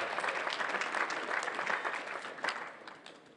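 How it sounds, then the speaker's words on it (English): A wedding party crowd applauds steadily for several seconds, dense clapping from many hands filling the room with a brief swell near the end. "So I'll give them a round of applause for the party."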